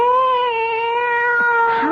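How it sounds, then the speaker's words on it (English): In a classic horror radio drama, a cat gives one long, steady, drawn-out yowl that bends upward at the end, loud and close with no talking. "by a cat."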